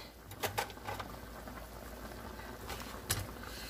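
A pot of beef goulash at a high boil gives a low, steady bubbling, with a few sharper pops and clicks from close by. It is faint and has no talk over it.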